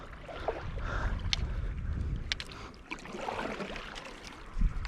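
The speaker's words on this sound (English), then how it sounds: "It's nice to actually be able to stand up and paddle." A stand-up paddleboard is paddled across calm water, with soft splashes and paddle strokes in an irregular rhythm close by, over a bed of wind and water noise.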